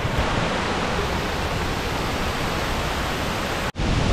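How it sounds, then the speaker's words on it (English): Munduk Waterfall in North Bali, a loud, steady roar of rushing, crashing water close by that fills the sound, broken only by a brief dropout near the end. "the reason you can hear the shah sound is because we have found the mini waterfall"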